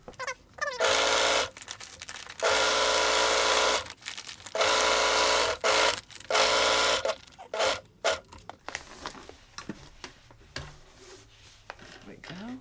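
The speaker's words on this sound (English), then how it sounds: "It's just a home sewing machine, and this one's a portable." A portable home sewing machine stitches a feed sack with poly cotton thread in four whirring bursts of about a second each. Softer rustling and handling sounds follow.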